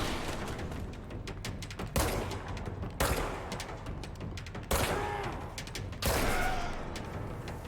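Rapid gunfire in the video game Control, dense overlapping bursts of shots and booms in several loud waves, close and continuous with no talking over it.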